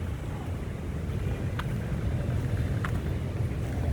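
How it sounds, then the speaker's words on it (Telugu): Steady roar of passing traffic on a busy town street, with cars, carts and auto rickshaws going by and a couple of brief higher tones cutting through the broad rumble. "కార్లు బళ్ళు వస్తున్నాయండి ఎదురుగా ఆటోలు"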